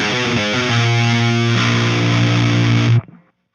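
Shreddage 2 electric guitar sample library run through a Revolver HPSE amp simulation, giving a heavily distorted sustained chord tone that rings loud and steady for about three seconds, then cuts off abruptly.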